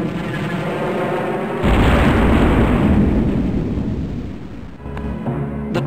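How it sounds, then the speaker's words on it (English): A planetary-scale explosion as the Death Star destroys the planet Alderaan in the Rebel Assault video game: a loud, sustained roaring blast that swells in and rumbles for several seconds before cutting off, with brief crackling bursts near the end. "Darth Vader unleashes the immense destructive power of the Death Star on Alderaan"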